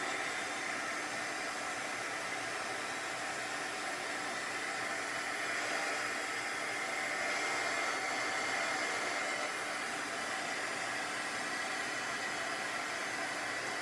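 A heat embossing tool blows a steady, close, airy roar over embossing powder on a die cut, holding an even hiss throughout with only slight swells and no speech.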